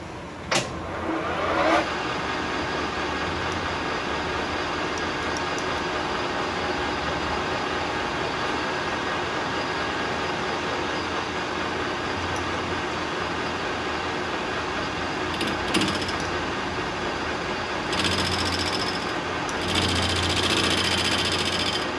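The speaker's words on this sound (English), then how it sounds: "let's put a boring bar inside and start machining the inside" Lathe running with a boring bar cutting the inside of a forged titanium sword guard, a steady loud mechanical hum and hiss for the whole stretch with a few sharper scrapes.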